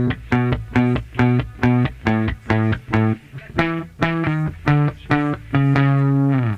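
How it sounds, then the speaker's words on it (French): Slightly saturated, twisted electric bass plays a punchy, staccato line of short repeated notes, then shifting pitches and a final sustained note, loud and close with no voices. "Alors c'est un son de basse un petit peu saturé justement"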